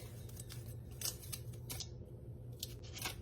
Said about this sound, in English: the tape comes off way easier when it's still hot